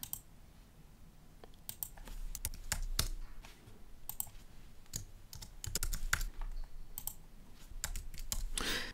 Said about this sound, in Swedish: när jag skrivit namnet så bara trycker jag enter